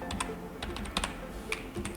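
Fairly quiet tapping on a computer keyboard while writing Python code, with irregular individual keystrokes spread across about two seconds over a soft background hiss.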